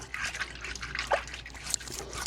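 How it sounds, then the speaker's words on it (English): Running water trickles and drips as salt is rinsed off a pork butt in a sink, a soft, uneven splashing close by with no voices. "You rinse it off really, really well."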